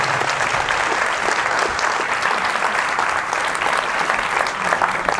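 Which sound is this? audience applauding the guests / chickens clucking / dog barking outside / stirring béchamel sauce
audience applauding the guests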